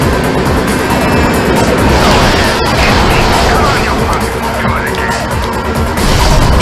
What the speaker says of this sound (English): And kaboom! That's the end of my car.